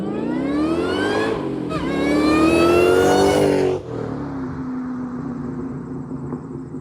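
A supercharged Terminator Cobra engine with a Borla exhaust revs hard, pitch climbing to a loud screaming peak, then drops back to a steady lower drone.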